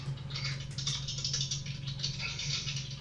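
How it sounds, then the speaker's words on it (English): Someone types on a computer keyboard during an online meeting, a soft, fast, steady patter of keystrokes over a low background hum, with no voices. "I hear typing."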